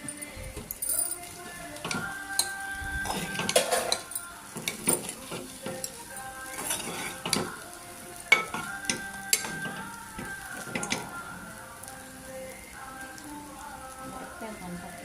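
Cooked rice is mixed into mango pulihora in a pan, with repeated soft scraping and stirring strokes and light clinks over a steady low sizzle, close by, while a voice talks at times.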